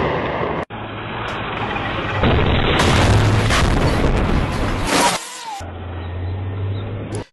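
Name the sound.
tank hitting a mine or IED, explosion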